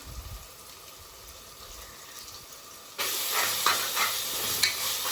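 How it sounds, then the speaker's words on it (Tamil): Ginger garlic paste sizzling and frying in a pan with sautéed onions and tomatoes for mutton kulambu, a soft hiss that turns louder and brighter partway through as the paste hits the hot oil. "இப்போ இஞ்சி பூண்டு பேஸ்ட்டு ரெண்டு டீஸ்பூன் சேர்த்துக்கலாம்"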